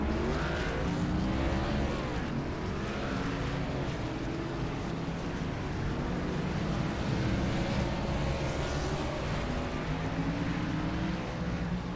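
Race cars roll off behind the pace car at Richmond in a FLRL race, a steady, loud drone of engines holding throughout with no talk.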